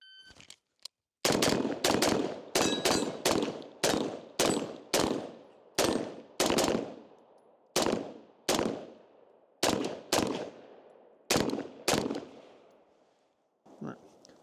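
Rifle gunfire from an ACOG-equipped rifle with a Trijicon 4x32 optic, fired in quick bursts across multiple targets: about fifteen loud, sharp shots in uneven clusters with short pauses between.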